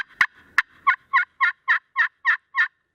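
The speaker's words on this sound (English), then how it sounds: "Notice I'm going right into some aggressive cutting." Aggressive turkey cutting played on a glass friction call: a couple of sharp clucks followed by a rapid, evenly spaced series of about eight loud, raspy, high yelping notes, close and without talk.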